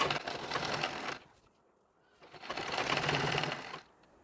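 A sewing machine runs stitching along the pallu of a Nauvari saree in two steady bursts of fast, rattling needle action, close and alone, with a short quiet pause between them.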